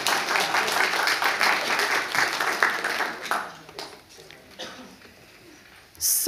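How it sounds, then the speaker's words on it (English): Audience applause after community singing of a Scottish folk song, a dense patter of many hands for about three seconds that quickly thins to scattered claps, then quiet room noise before a brief burst at the end. "Give yourselves a round of applause."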